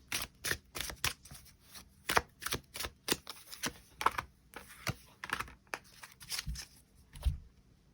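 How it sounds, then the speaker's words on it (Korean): Tarot cards handled at a table, a run of quick soft slaps and flicks in irregular bursts, close and quiet, like cards being shuffled and drawn one by one, with no talking. "이번 12월을 더 잘 보내기 위한 조언의 카드 무엇이 있을지 추가 카드 뽑아보도록 하겠습니다"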